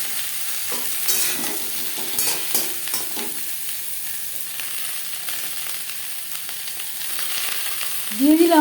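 Five tomatoes stirred and frying in a hot pan with onions for butter chicken, a steady close sizzle with scraping stirs, a brief spoken phrase near the end.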